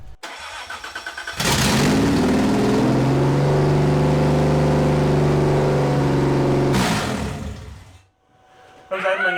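A newly installed 400 engine cranks briefly, then catches and roars into a loud, steady fast idle near 3,000 RPM for several seconds before cutting off, followed by people talking.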